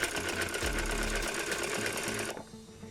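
A sewing machine runs a rapid, steady stitch along the sleeve of a baby frock, whirring loudly and continuously before cutting off abruptly near the end.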